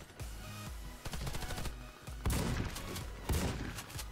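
Pump-action shotgun blasts in the shooter game Warface, with several sharp, booming shots at irregular intervals, the heaviest two about a second apart near the end, heard alone without talk.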